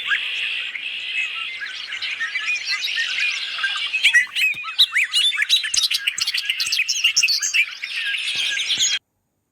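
A small black bobolink-sized songbird chorus fills the scene: dense, bright chirps and warbling calls, steady at first, then choppier bursts of tweets, fairly loud and close with no talking.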